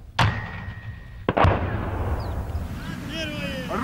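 Two heavy blasts from a 2S9 Nona-S self-propelled artillery gun boom about a second apart, each followed by a rolling, rumbling echo that fades into distant outdoor noise.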